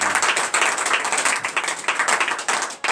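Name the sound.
congregation clapping to acclaim the Lord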